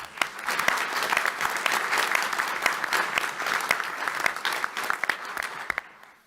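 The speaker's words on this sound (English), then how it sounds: "Let's give her a big round of applause." A seated audience at a university health event gives a warm round of applause, many hands clapping in a steady, full wash that holds for several seconds before quickly tapering off.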